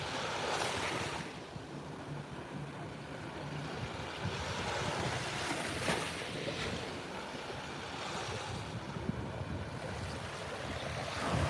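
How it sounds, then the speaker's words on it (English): Ocean waves rush in as a steady, broad roar of surf with wind buffeting the microphone, continuous and fairly loud, with no voices. "Water rushing in."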